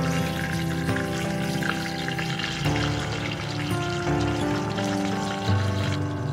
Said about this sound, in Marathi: तेल गरम झाल्यानंतर आपण यामध्ये जिरे मोहरी